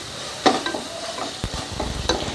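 Ginger garlic paste fries in a pan with a soft, steady sizzle, broken by a few sharp scraping stirs of a utensil against the pan.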